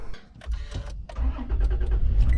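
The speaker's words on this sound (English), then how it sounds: "let's go ahead and go in the truck and see if we have enough energy to start the truck" A truck engine cranks and catches on power from an AVAPOW A28 portable jump starter, settling into a steady, loud idle close by with no talking.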